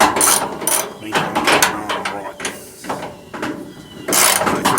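Ratchet wrench tightening bolts on a car door while adjusting door gaps, bursts of rapid clicking pawl ratcheting in repeated strokes, loud and close.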